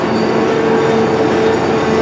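Western Maryland Scenic Railroad train pulling in, a loud steady rumble with a sustained wheel whine running throughout and no voices.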